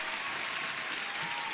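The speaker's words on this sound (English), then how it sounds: "Let me give you an applause." Applause sound effect played on a live day-trading stream, a brief, even wash of crowd clapping at moderate level with no break, and no talking over it.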